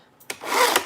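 Paper cards for a mini book are cut on a trimmer: a short tap, then one smooth scraping slice of the blade along the paper, close and clear.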